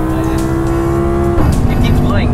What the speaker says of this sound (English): A naturally aspirated V10, it really makes the hair stand on your head.